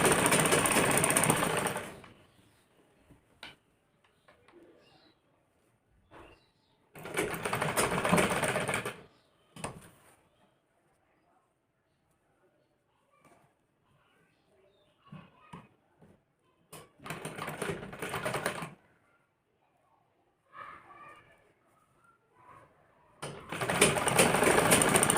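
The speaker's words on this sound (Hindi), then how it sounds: "यहाँ से पूरे इस पर किनारे किनारे पे बिल्कुल किनारे किनारे पे सिलाई मारेंगे।" A sewing machine runs in four loud bursts of a few seconds each, stitching close along the edges of a kurti collar, with quiet pauses and faint handling noises in between.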